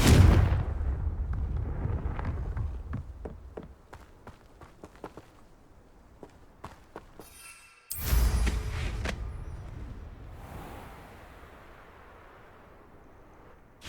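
Confringo fire spells in Hogwarts Legacy blast off as a heavy burst, then footsteps tap and trail away before a second loud blast rolls out and fades.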